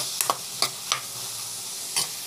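Vegetables stirred in a pan with asafoetida, a few separate scraping stirs with soft sizzling beneath, close and alone.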